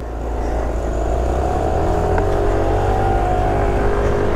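A Yamaha Aerox 155 scooter engine starts and settles into a steady, loud running drone, with rising tones suggesting revving, heard close with no talk over it.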